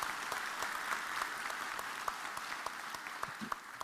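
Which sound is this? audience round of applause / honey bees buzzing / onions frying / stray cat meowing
audience round of applause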